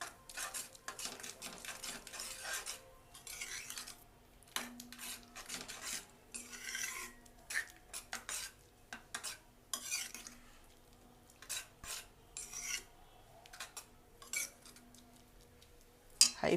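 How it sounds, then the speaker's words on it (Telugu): Carrot halwa being stirred in a pan after sugar goes in, a steady series of scraping and clinking spoon strokes against metal, close and fairly quiet, with no talking. "షుగర్ వేసిన తర్వాత బాగా కలియబెట్టండి, షుగర్ అంతా కరిగిపోయేటట్టు"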